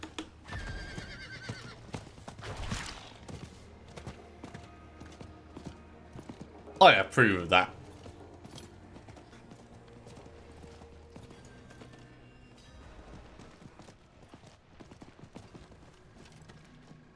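Diablo 4 horse sounds: soft hoofbeats clop through the scene while a loud whinny bursts out midway, alongside other game noises and a brief spoken line.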